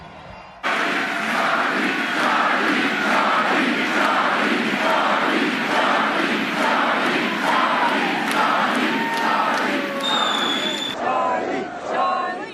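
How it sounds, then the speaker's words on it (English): A crowd of more than 6,000 supporters fills an arena with loud, rhythmic chanting of a name. The repeated shouted pulses run steadily for about ten seconds, and a sharp tonal sound near the end cuts through the roar. "the crowd erupted in Charlie chants"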